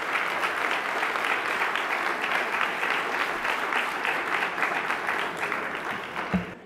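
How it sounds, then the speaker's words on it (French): Guests at an induction banquet applaud their partners with dense, sustained clapping from a large room that holds steady before easing off. "On applaudit nos partenaires"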